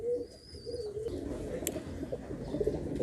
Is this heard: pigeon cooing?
yes